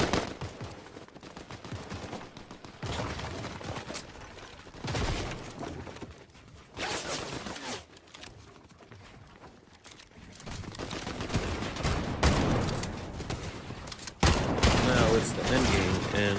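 Fortnite gunfire during an end-game fight between two teams: bursts of shots come in separate, uneven waves and grow louder and more intense toward the end, with a voice talking over them at times.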